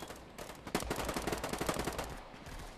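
Rapid automatic gunfire in the VR shooter Contractors VR, a fast burst of shots at moderate volume lasting a couple of seconds.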